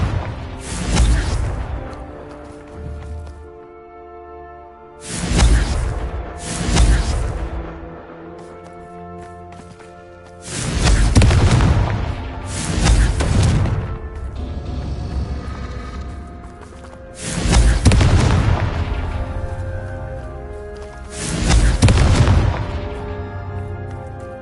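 Confringo blasting-spell explosions in a Harry Potter video game land as five heavy booming blasts spaced a few seconds apart, each with a rumbling decay, loud and close with no talking.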